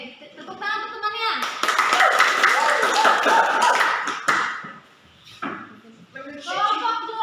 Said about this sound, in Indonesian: Oke, tepuk tangan untuk temannya.